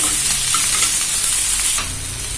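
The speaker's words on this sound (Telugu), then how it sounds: "సన్నగా కట్ చేసుకున్న ఉల్లిపాయలు వీటిని వేసుకొని కాసేపు ఫ్రై చేయాలి" Thinly sliced onions fry in hot oil in a pan, a loud continuous hiss and sizzle up close, steady throughout with no talking.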